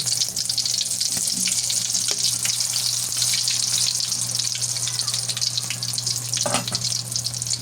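A tortang isda omelette of small turnos fish fries in hot oil with a steady, loud sizzle and crackle close by, no talk.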